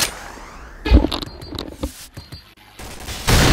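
Gunfire rattles in a Point Blank match, with several close, loud bursts of shots breaking up quieter in-game noise, the heaviest burst at the end.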